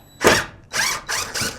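A power drill being run in short bursts as its trigger is squeezed, four whirring pulses of varying length with brief pauses between, close and fairly loud, no talking.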